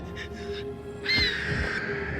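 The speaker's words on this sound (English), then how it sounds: "The owl, it's back!" An owl in an animated cartoon gives a short hoot, followed by a louder, clearer hoot about a second later, both heard over a steady background hum.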